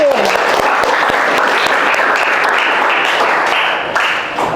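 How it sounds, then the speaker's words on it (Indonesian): Classroom applause for a student in an economics lesson, steady dense clapping from many hands that carries on evenly from start to finish, with a faint voice under it at the very beginning. "Tepuk tangan dulu untuk si Nedin"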